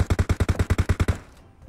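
Distant automatic gunfire in PUBG Mobile: a rapid burst of about ten evenly spaced shots, then a brief fading tail into quiet.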